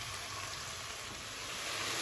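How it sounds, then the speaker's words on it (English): Steady, dense sizzling of vegetables and salt fish frying in a hot pan, a continuous crackling hiss with no pauses. "So let us have it fry a little bit, not too long"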